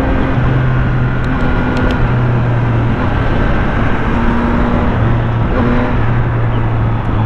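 A 2023 Yamaha XSR900 motorcycle pulls hard in third gear, its engine droning loud and steady beneath heavy wind rush, heard from the rider's position.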